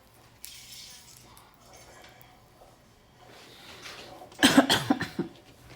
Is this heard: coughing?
yes